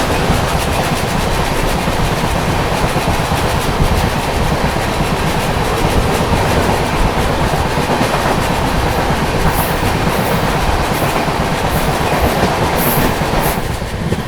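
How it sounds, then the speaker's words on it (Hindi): The Barauni-Gwalior Mail passes in the opposite direction alongside a moving express train, a loud, continuous rush of rolling wheels and rhythmic clickety-clack over rail joints lasting throughout. "सामने से आ रही है बरौनी से चलकर ग्वालियर की ओर जाने वाली बरौनी ग्वालियर मेल"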